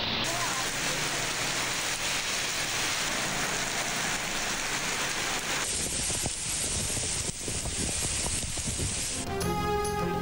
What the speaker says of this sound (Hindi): पंजाब के कई शहरों में भी गरज चमक के साथ बारिश का सिलसिला जारी